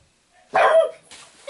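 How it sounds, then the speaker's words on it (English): Dogs bark from across the house in a short burst of several overlapping barks, moderately loud and slightly distant, with a fainter bark returning a moment later, no talking. "You hear the other dogs barking."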